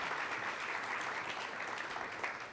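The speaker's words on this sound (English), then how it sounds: "let's give her a big applause." An audience at a business talk on accounting claps for a speaker, a brisk, even wash of applause at moderate level lasting the whole moment, with no voice over it.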